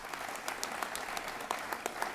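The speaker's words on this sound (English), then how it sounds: "Please give him applause again." Applause from an audience at a community event honoring baseball players, a quiet, steady patter of many hands clapping with sharp individual claps poking through, continuous and somewhat distant.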